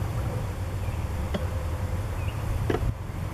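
A honeybee swarm buzzes steadily in the open, a dense droning hum from many bees close by, with a couple of brief sharper clicks or knocks partway through and no voices.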